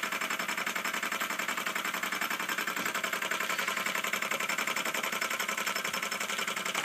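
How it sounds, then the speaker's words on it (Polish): Small steam engine driving a mini 230V generator, a steady fast mechanical chatter that runs evenly throughout without pauses, close and fairly quiet, with no voices. "to chodzi z silnika parowego"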